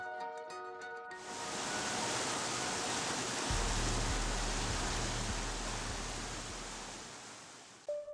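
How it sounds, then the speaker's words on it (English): Heavy rainwater rushes and pours down a rocky off-road trail in the mountains near Ouray, Colorado, a loud steady broadband roar like a waterfall, joined partway through by a low engine drone. "With the rain, we are literally driving up a waterfall."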